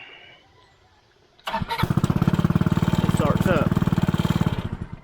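A homemade trike engine starts after a quiet moment, catching abruptly and settling into a loud, fast, even putter that runs steadily close by with no talk over it.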